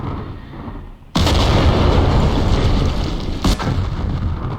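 Artillery fires in John Tiller's Campaign Series, a Market Garden wargame: a sudden loud boom breaks a quiet background and rolls into a sustained, heavy rumble, with a second sharp report partway through.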